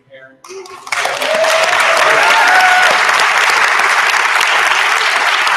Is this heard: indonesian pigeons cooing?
no